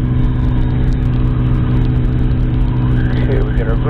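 An ultralight trike's engine drones loudly and steadily in flight, climbing in pitch toward the end as the throttle is opened up.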